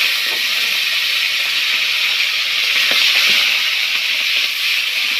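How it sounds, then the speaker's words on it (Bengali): Shrimp dropped into hot oil over a black cumin tempering for a bottle gourd dish sizzle loudly and steadily, an even, close frying hiss with no talk. "মাছগুলো যে একটু ভাজা ভাজা হবে"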